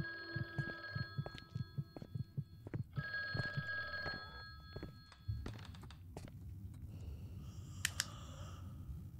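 Old telephone bell ringing in the horror video game Granny, repeated metallic rings alongside a throbbing heartbeat-like pulse and scattered thunks, faint and distant in the game's ambience.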